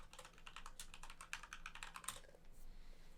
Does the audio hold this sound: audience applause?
no